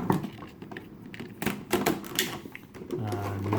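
Packing tape on the sides of a boxed figure is sliced with a few sharp scraping and tearing strokes, close and fairly quiet, among small thuds of cardboard handling.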